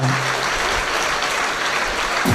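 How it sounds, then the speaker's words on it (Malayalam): A church congregation at a Kreupasana prayer service claps hands together, a loud, dense wash of applause that holds steady before tapering right at the end. "കൈയടിച്ച് കർത്താവ് ഹല്ലേലൂയ"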